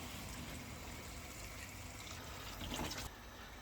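Hot water poured into a cooking pot while preparing an aubergine and courgette dish, a steady liquid splashing and filling sound, close and continuous, cutting off abruptly near the end.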